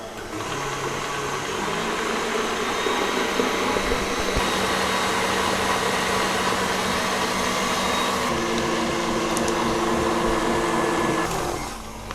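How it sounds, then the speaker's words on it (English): A stand mixer with a whisk attachment beats a KitKat candy mixture, its motor giving a loud, steady whirring drone that runs unbroken for about twelve seconds with slight shifts in pitch. "So we're just gonna turn on our mixer."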